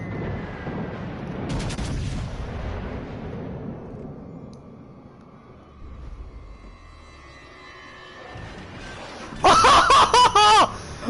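Naval guns fire during a World of Warships Legends battle: a booming salvo early on, a quieter rumbling stretch, then a loud burst of rapid shots near the end.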